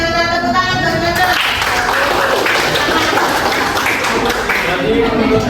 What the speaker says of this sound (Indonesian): Tepuk tangan buat Nana.